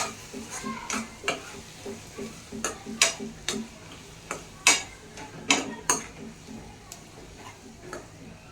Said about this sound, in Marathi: जे आपण मसाला तयार करायला भाजून घेतलं होतं ते ह्याच्यात घालून घ्यायचं आपल्याला फ्राय करायला